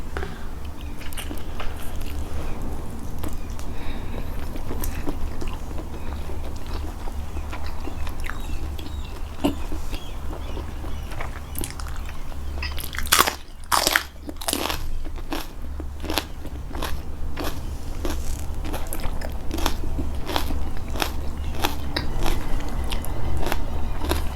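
Someone eats blanched giant squid with a homemade fish-sauce dipping sauce, with close, repeated crunchy bites and chewing, plus a cluster of sharp crackles midway, over a constant low background hum.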